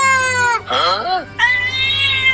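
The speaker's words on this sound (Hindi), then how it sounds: "चल नीचे उतर बिल्ली" A cat meows in a drawn-out, wavering cry, then again after a short pause, loud and close against a steady low hum.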